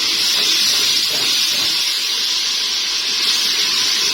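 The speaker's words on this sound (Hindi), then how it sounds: "थोड़ा सा हम पानी ऐड करेंगे" Water splashed into a pan of frying beef curry masala with red chilli, giving a steady loud sizzling hiss with steam, continuous and unbroken throughout.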